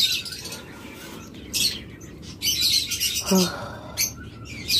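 Several caged birds sold as running breeding pairs chirp and tweet in short bursts, with a few sharp calls and some wing flutter, fairly close in an otherwise quiet setting.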